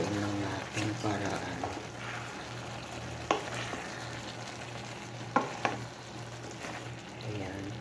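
Ampalaya and chicken breast sizzle steadily in a frying pan while a utensil stirs and scrapes, with a few sharp knocks against the pan; a voice talks intermittently over the frying.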